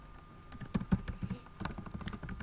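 Computer keyboard typing an SQL create-table command for a Java DB database, a brief quick patter of close key clicks with a couple of firmer strokes, no speech.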